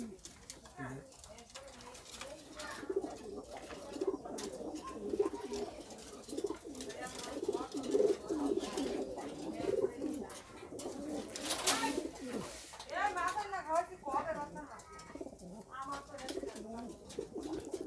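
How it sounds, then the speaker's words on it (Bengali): King and peacock pigeons, including hot-colour king birds, coo in a loft of imported pigeons, soft repeated burbling calls rising and falling close by, mixed with indistinct human voices and background noise. "আর এগুলো তো কিং কবুতর, king king hot colour, king ময়ূরী আছে দেখলাম, ময়ূর কবুতর"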